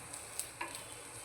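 Chopped cauliflower frying in a cheenachatti pan, a faint, steady sizzle with light stirring scrapes, close and brief.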